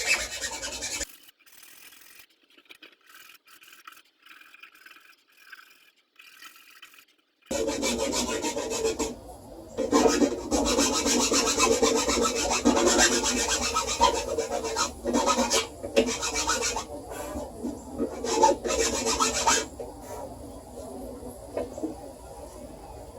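A rasp working wood to deepen the string notches on a self bow tip, steady rhythmic scraping strokes up close, starting softer, then a pause and a longer, louder run of rasping, with faint birds outdoors.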